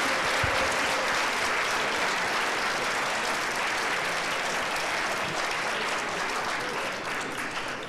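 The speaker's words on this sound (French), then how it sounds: "On peut les applaudir." A conference audience breaks into steady, dense applause that fills the room at an even level throughout, fading slightly at the end, with no talk over it.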